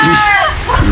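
A fighting rooster crows loud and close in a rural yard in Badian, South Cebu, a brief harsh call with some background noise.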